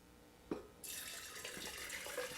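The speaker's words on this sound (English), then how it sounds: "I'm going to get my water into the pouring pitcher" Water from a tap pours steadily into a pouring pitcher for coffee cupping, a brief knock first, then a continuous bright splashing rush filling the vessel, fairly close and alone with no talk.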